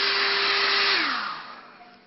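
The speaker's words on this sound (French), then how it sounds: "insiste un peu plus longtemps avec le sèche-cheveux" A hair dryer blows warm air onto paint on glass, a loud steady whir whose motor tone drops as it powers down and fades out over about two seconds.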